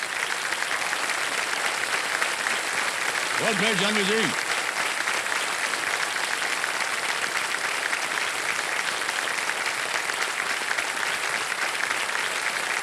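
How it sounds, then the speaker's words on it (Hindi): A studio audience at a televised quiz show claps in a dense, steady round of applause that fills the whole stretch, while a host speaks briefly over it near the start. "ताली बज जाए इनके लिए।"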